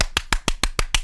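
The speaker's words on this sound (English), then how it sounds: "I'm gonna clap really loud" Seven loud, sharp hand claps ring out close up in a steady, even rhythm, each a crisp broadband crack with a short tail and quiet gaps between, no voices present.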